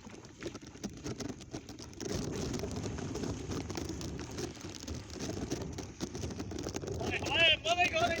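Heavy stormy rain in the Thal region, a steady broadband wash of downpour that thickens after the first couple of seconds, with people talking faintly underneath throughout.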